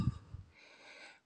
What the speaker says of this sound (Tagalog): Humihingal-hingal ako ng konti.